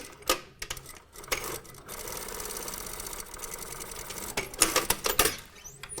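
Sewing machine stay stitching a trouser slanted side pocket onto its pocket bag, a steady close motor whir with rattling stitches, flanked by sharper clicks and handling knocks at the start and end.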